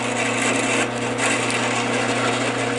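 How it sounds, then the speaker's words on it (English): A drill bores a hole through a piece of wood clamped over a sacrificial board against a stop, a continuous rough grinding whir running steadily and loud, close by, with no talking. "I'm just going to drill a hole"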